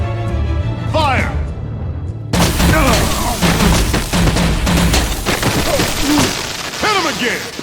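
Gunfire volley in Batman: The Enemy Within, a heavy burst of shots and booms breaking in abruptly, with shouting voices and cries over and around the firing.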